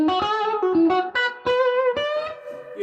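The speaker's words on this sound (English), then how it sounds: "I've got this dialed in actually on the overdrive channel, but using it to get just a bit of Grit" An electric guitar plays bluesy notes through the overdrive channel of a Two-Rock amp, a loud, lightly gritty tone with a series of sustained, bending phrases and no speech.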